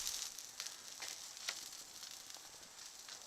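Onions sizzling while caramelizing for burgers, a faint, steady crackle with small pops throughout, no voices.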